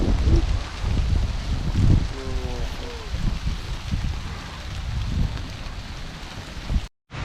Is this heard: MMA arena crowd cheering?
no